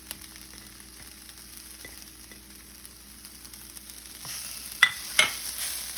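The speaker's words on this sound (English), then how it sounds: "And then we stir fry this" Red onions and other ingredients are stir-fried in a pan for a Caribbean-style pot roast. A low, quiet sizzle rises toward the end, and a couple of sharp utensil clinks sound against the pan.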